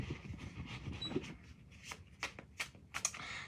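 A deck of tarot cards being shuffled, giving soft riffling and flicking bursts that come in short, uneven clusters. The handling is fairly quiet and close, with no talking over it.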